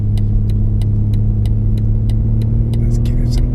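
Modified BMW M3 Touring in M1 mode with sharper throttle response, its engine accelerating in a steady loud rising drone heard from the cabin, with faint clicks over it.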